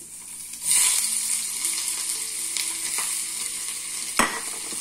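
Cassava frying in a pan, a steady close sizzle that swells suddenly and then holds, with a sharp crackle burst near the end.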